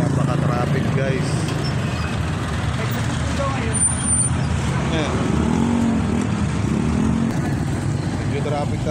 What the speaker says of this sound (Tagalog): Medyo traffic talaga dito ngayon guys.